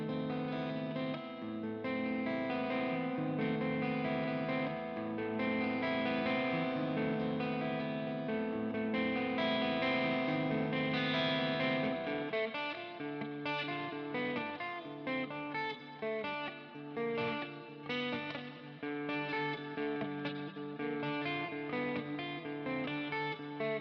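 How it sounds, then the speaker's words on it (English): An electric guitar riff played through reverb and other effects rings out in sustained, chord-rich phrases, steady at first and then breaking into choppier, rhythmic strums in the second half, with no talking over it. "I don't know if I like the reverb on that,"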